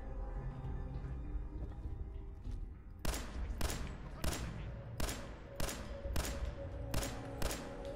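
Gunfire from a weapon in Fallout 4 booms in a run of about eight loud, evenly spaced shots, each a sharp crack with a short echo, after a few seconds of quieter game ambience.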